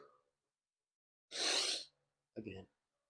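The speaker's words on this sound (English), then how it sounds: "Gotta sneeze." A person sneezes once, loud and close, during a shoulders and abs workout. A shorter breathy burst follows, with near silence around both sounds.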